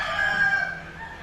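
A rooster crows among a flock of chickens early in the morning, a drawn-out cock-a-doodle-doo standing out clearly over a steady background hum, with no talking.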